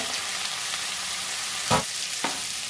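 Whole cumin seeds and boiled potatoes and sweet potatoes sizzling in hot oil for a Bengali shukto, a steady hissing fry with a couple of louder bursts and clatters as the pan is stirred.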